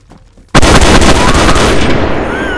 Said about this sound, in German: Da ist eine Nade!